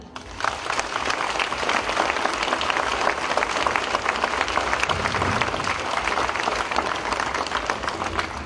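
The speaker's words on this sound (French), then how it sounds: "Alors, applaudissez-la." Sustained, dense applause from an audience at a Pentecost crowning ceremony for a rosière fills the whole stretch, steady and loud.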